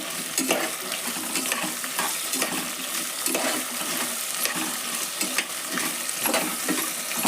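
Onions stirred through hot oil for cabbage pulao, a steady close sizzle with repeated scraping strokes of the spoon against the pan, no voices.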